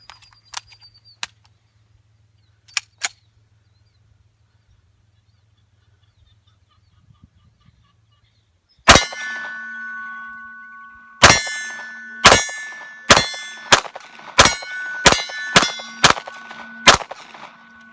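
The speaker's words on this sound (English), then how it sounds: "So let's go ahead and shoot the CZ." A CZ pistol shooting reloaded rounds fires about nine sharp, loud shots, the first alone and the rest in a quick, slightly uneven string, each followed by a short ringing decay.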